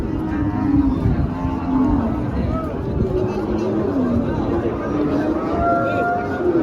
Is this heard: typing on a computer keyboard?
no